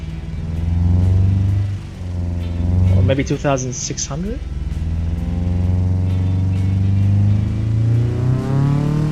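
A boxer four engine in the Automation car game revs steadily, a loud sustained drone that rises briefly in a sharp sweep and settles again, with someone talking over it.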